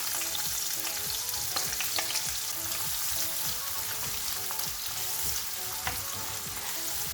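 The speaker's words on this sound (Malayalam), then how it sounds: "അതിലേക്ക് ചോപ്പ് ചെയ്ത് വെച്ചിരിക്കുന്ന സവാള ഇട്ട് കൊടുക്കാം." Chopped onion with a bay leaf and cloves sizzles steadily in a hot oiled pan, a dense continuous frying crackle with occasional stirring scrapes, close and moderately loud.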